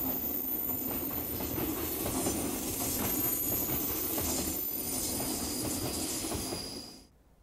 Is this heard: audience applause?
no